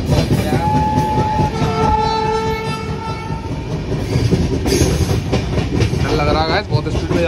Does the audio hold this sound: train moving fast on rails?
yes